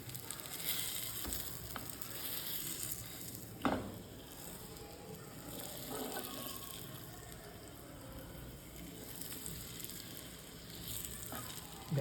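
Paneer cubes pan-frying in a hot pan for paneer makhani, a steady close sizzle throughout with scraping and clatter as the pieces are turned, one sharp knock near four seconds and no talk.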